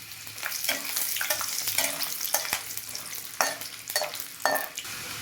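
Dried red chillies crackle and sizzle in hot oil for bisi bele bath, a busy, close frying hiss with stirring clinks and scrapes and several sharper pops.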